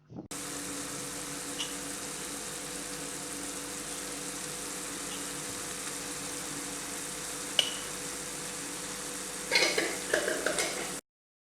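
Chicken macaroni with pepper powder and masala stirred in a hot pan, a steady close sizzling hiss throughout with a few scraping clatters of the spoon near the end, no voices.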